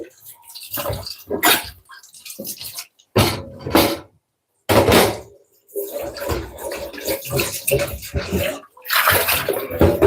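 Water runs into a bowl in a home kitchen, coming in several uneven splashing bursts with short pauses between them, fairly close and clear.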